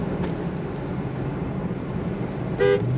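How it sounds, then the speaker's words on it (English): A 1992 Ford Mustang LX 5.0 convertible sounds one short, clear horn toot near the end, standing out above a low steady background rumble. "Horn works."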